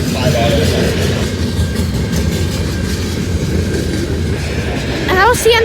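CN 417 mixed freight train led by ES44AC locomotive 2966 rolls past in rain at Abbotsford, BC, a continuous loud rumble of wheels and cars, with a brief squealing tone near the end.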